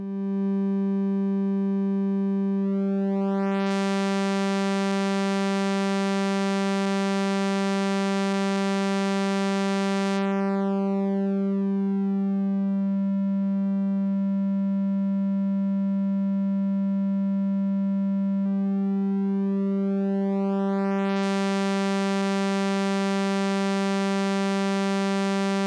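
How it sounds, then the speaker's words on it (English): Oscillator of a SynthieCat software recreation of the EMS Synthi A synthesizer holding a steady pitch while its wave shape is swept, the tone turning from pure and smooth to bright and buzzy and back, sustained and alone. "Now the shape control allows us to change the shape of the wave."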